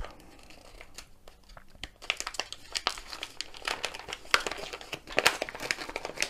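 Crinkly plastic packaging of a diamond painting kit is torn open and handled, with a run of sharp, close crackles and rustles starting a couple of seconds in and continuing in irregular bursts.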